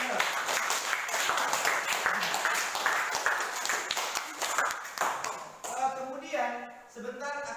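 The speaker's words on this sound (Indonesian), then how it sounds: "Beri dulu aplaus." A classroom audience applauds a teacher's lesson with dense, steady clapping for about five seconds, then the clapping fades and a voice and tones take over.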